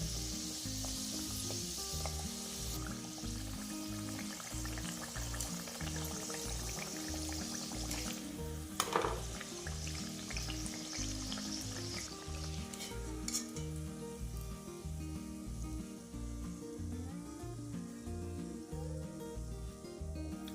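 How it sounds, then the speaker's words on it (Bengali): Green mung dal kachori fry gently in oil over low heat, giving a steady, continuous close sizzle with a few brief clinks from stirring, and no talk. "ওই জন্য অল্প আঁচে আস্তে আস্তে ভাজতে হবে"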